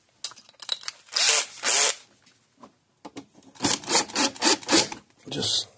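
Stainless steel screws are driven into the front panel of an old Gallagher M800 electronics unit, giving close, loud bursts of grinding and rasping turns in quick repeated strokes with short pauses between.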